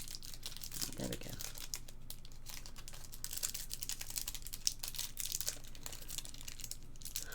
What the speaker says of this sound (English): I'm having a job to get it out of the packet.